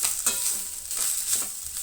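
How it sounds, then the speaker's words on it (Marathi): Grated coconut roasts in oil in a pan for a Goan white peas usal, giving a soft, steady sizzle with light stirring scrapes, close and quiet. "हांगसर सोय एड केली, तेज्या उपरांत ती बरी भाजून घेयात."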